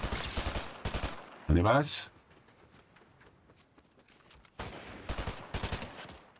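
Gunfire in Fortnite, bursts of rapid automatic shots in clusters at the start and again near the end, separated by a quieter stretch, with a short spoken question between bursts.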